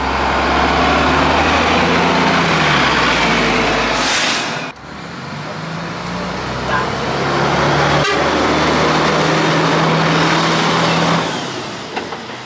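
An old London bus running on a heritage running day, its engine throbbing loudly up close in a low steady drone, with a short sharp toot partway through and the idle note shifting over time.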